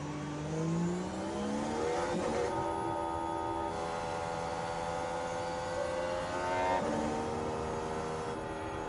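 F1 car engines in the F1 Manager 23 racing game whine and rise and fall in pitch as the cars weave side to side behind the safety car at Melbourne. A steady, fairly close drone with smooth sweeping tones.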